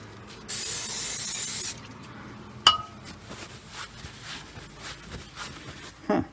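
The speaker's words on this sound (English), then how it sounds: "Spray a bit of brake clean on the pads." Brake cleaner sprays onto the rear brake pads of a Silverado in one loud, steady hiss lasting just over a second, followed by a sharp metallic clink and some quieter handling noises.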